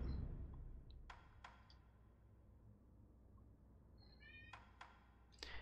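A house cat meows a few times indoors, quiet and a little distant, with faint clicks in between and no talk.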